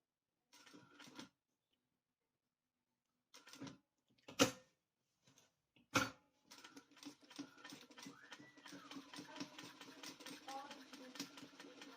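A sewing machine overlocks quilted fabric drinks coasters, with short whirring stitch bursts separated by pauses, then a longer steady run of stitching, close and fairly quiet.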